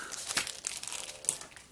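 A plastic bag holding electronic components for an electrosmog detector kit crinkles as it is handled, with a few sharp rustling bursts over a quiet background.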